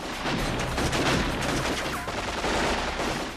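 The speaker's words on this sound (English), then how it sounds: "Moments later, Alexander spots Harley and Marlboro nearby, and a gunfight breaks out." Dense, sustained gunfire from a movie gunfight, rapid overlapping shots and bursts filling the whole stretch loudly with no pauses.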